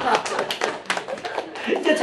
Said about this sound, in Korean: 박수 좀 하세요.